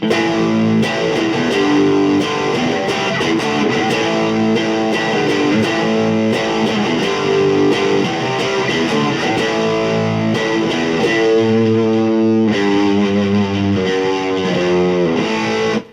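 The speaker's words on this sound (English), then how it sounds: "don't forget that's with distortion, so it'd be more like" A loud, heavily distorted electric guitar plays chords continuously, dense and sustained throughout.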